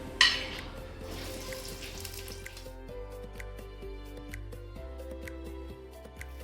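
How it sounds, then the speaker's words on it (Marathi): Onions frying in oil give a soft, steady sizzle in the first couple of seconds, then fade under gentle music-like tones in the background. "त्यानंतर आपण कांदे टाकून ते परतून घेऊया."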